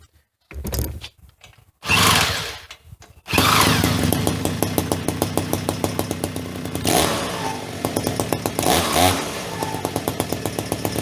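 A mini bike engine runs steadily close by with a gas can zip-tied on and the throttle cable pulled too far open, sputtering and revving through a rapid pulsing chug after a few short false starts.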